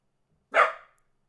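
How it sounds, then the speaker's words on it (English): A single sharp dog bark, close and loud, standing alone against silence. "Oh, Maxie, what are we barking at?"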